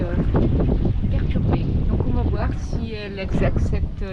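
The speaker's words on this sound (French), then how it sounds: "C'est vrai que ce matin il y a encore du vent et un peu de vague." Steady wind buffeting the microphone and washing waves aboard a sailboat at sea on a blustery morning, a continuous loud roar with surging swells throughout.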